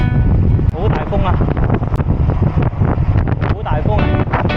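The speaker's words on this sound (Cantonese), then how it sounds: "好大風啊！" Strong wind buffets the microphone during a cycling ride, a loud, gusting roar that swells and dips continuously, while people's voices come through underneath.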